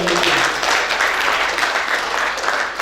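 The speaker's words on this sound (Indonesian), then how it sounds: "Berikan tepuk tangan yang luar biasa." Brief, lively applause from a church congregation during a sermon, many hands clapping together at a steady level for a few seconds.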